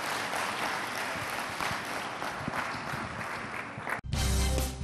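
A church congregation claps for the Lord in a steady, dense wash of applause that runs for several seconds before a brief cut, then resumes louder, with no talk.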